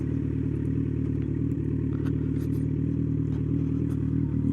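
A Kawasaki Z900 motorcycle with a modified aftermarket exhaust idles with a steady, close, throbbing low rumble, faint clatter riding on top, holding even throughout.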